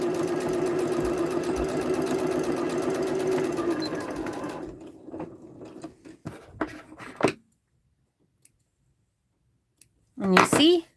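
A sewing machine stitches a French seam on a fabric gift bag, running steadily for about four and a half seconds before stopping, followed by a few scattered clicks and a short rustle near the end.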